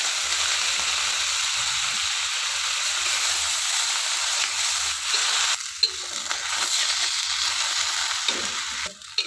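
Turi flowers stir-fried in a cooked spice paste sizzle steadily and loudly in a pan, a continuous hiss with a few soft stirring knocks toward the end.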